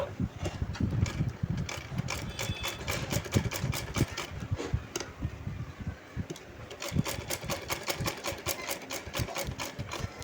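A sewing machine top-stitching the neckline of a cut-work blouse runs in fast, rhythmic bursts of needle strokes, close and clear, with a brief slowdown partway through before the stitching picks up again.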